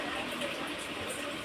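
Water being poured into a cooking pot in a home kitchen, a steady close gush of running liquid with no pause from start to end.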